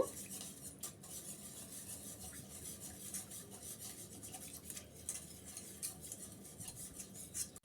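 A barfi mixture with butter is stirred in a pan on the stove. A spoon scrapes and rubs against the pan in a quiet, continuous rhythm of soft strokes, close by and with no talking.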